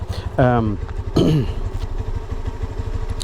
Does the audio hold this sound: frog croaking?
no